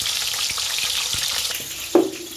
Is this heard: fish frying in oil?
yes